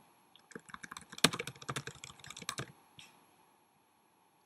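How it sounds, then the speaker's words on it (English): Keys on a computer keyboard are struck in a quick run of crisp, close clicks lasting about two seconds, then a couple of isolated taps before quiet. "I'm going to click undo on my keyboard"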